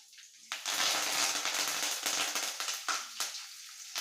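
Mustard, fenugreek and cumin seeds hit hot oil with curry leaves for a Nellore-style fish curry. A sudden crackling sizzle bursts up and keeps going with popping spatters, close and fairly loud.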